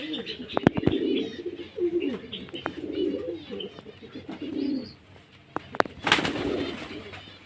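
Pet pigeons coo in repeated soft, throaty phrases close by while being served water mixed with a digestive remedy, with a few sharp clicks and a brief burst of rustling near the end.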